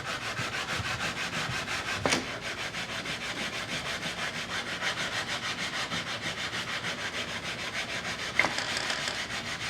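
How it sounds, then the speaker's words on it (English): Sandpaper wrapped around a block rubs steadily over a shell inlay, clearing 80 and 120 grit scratches in a continuous close scratchy hiss, with two brief louder scrapes along the way. "like wrapping sandpaper around it for the initial cut"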